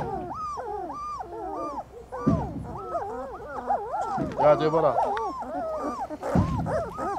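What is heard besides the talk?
Central Asian Shepherd dog growling and whimpering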